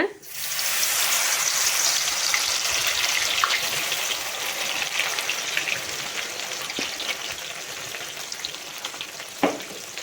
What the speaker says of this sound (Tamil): இப்போ நம்ம சோயா நம்ம போட்டு பொரிச்சிக்கலாம்